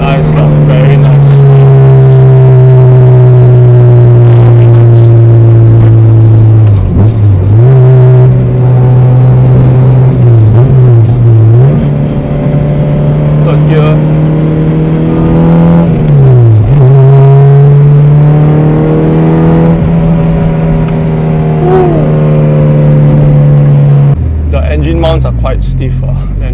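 A Honda Civic EK sedan's swapped K24 engine held at high, strained revs near full throttle, droning loudly and steadily with brief dips and surges in pitch before easing off at the end.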